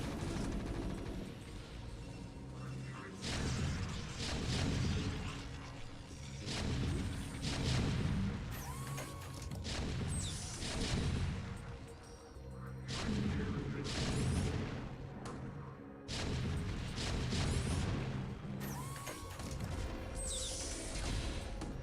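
Repeated heavy booms of siege tank artillery fire in a StarCraft: Brood War match, loud and recurring in bursts across the battle with dense overlapping explosions and no speech.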